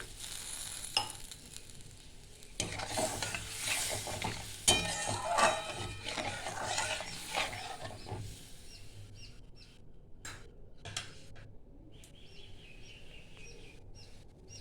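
Puti fish curry masala simmers in a pan after water is added, a soft, steady bubbling hiss that is louder at first, then settles into a quieter simmer with occasional light clicks.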